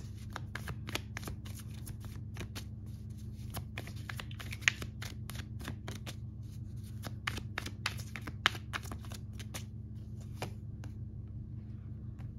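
Tarot cards are shuffled and drawn by hand in a series of quick, soft riffling and snapping sounds with an irregular rhythm, close and fairly quiet, with no talk.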